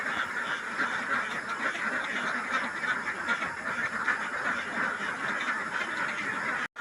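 A flock of farm-raised domestic ducks quacks continuously in a dense, busy chorus, close and steady throughout.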